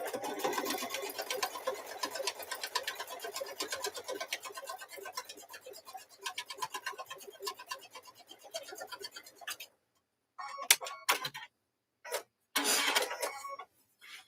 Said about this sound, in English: Stitch across this one.